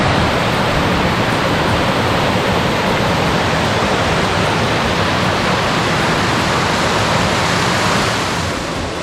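A waterfall reached on a bushwhacking hike roars as a loud, steady, dense rush of water that fills the whole span without a break and fades slightly at the end.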